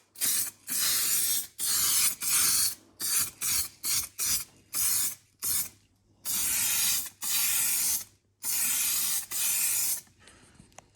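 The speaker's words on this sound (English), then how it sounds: "So I'm just gonna do some rattle can paint." Rattle-can spray paint hissing out in a series of bursts, some short and some lasting a second or more, with brief pauses between them during car repair work. The spray is close and loud, and no one speaks.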